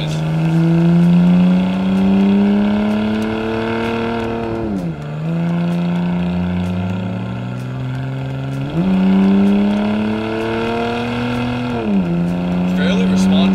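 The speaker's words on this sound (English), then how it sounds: "Again with that intake noise." A Nissan Stagea's engine intake note rises in pitch through several gears, each climb dropping sharply at a shift, loud and close with a throaty whoosh.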